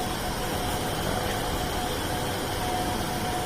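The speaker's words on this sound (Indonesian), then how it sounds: "Itu adalah kipas bekas dari AC yang outdoor," A reused fan from a 2 PK outdoor air conditioner unit runs at a quail farm, giving a steady, loud, close broadband whoosh of rushing air with a faint whine, constant throughout and without talk.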